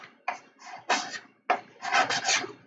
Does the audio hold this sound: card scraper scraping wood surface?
yes